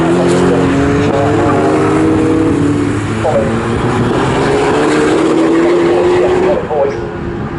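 Saloon race cars, including a Ford Sierra RS Cosworth, running side by side in a Classic Thunder saloon race at Snetterton, their loud continuous engine roar rising and shifting in pitch, with a commentator talking over it throughout.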